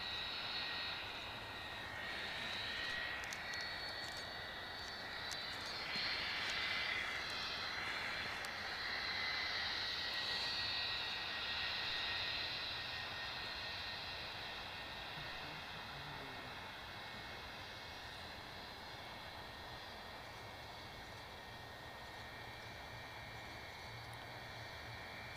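An aircraft flying past at Edinburgh Airport produces a sustained jet engine whine with a shifting high-pitched tone, loudest early on and then slowly fading to a steady distant drone, with no voices.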